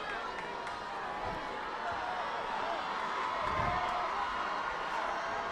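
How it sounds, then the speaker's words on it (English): The Jesuit student section cheers at a high school football game, a dense distant roar sustained for several seconds with faint thuds and shouts mixed in. "Jesuit crowd getting up. Student section coming alive over there, hoping to see this stop."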